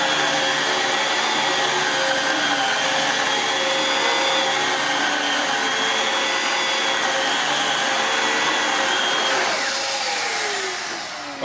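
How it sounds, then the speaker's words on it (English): An American-made vacuum cleaner running over carpet, a loud, steady close-up roar with a slight change in pitch as it pushes across in different directions, then trailing off at the end, with no talking. "I'm going to vacuum in several different directions"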